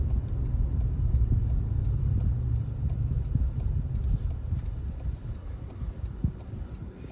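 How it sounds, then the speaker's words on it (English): A 2024 Toyota Tacoma TRD Pro truck driving, heard from inside the cab as a steady low engine and road rumble with light ticking, no talk. "It's really fun driving this truck."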